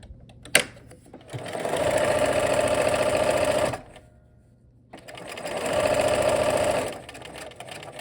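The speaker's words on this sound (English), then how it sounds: "I'm gonna line it up. And start our stitching." A sewing machine stitches a Y seam in two loud, fast, even bursts of rapid needle clatter, each lasting about two seconds, separated by a brief pause with a soft click beforehand.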